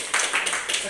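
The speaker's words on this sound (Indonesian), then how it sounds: "Kasih tepuk tangannya untuk kelompok." A class of students claps for a group in a classroom, with bursts of hand clapping spread across the moment and a teacher's voice talking through it.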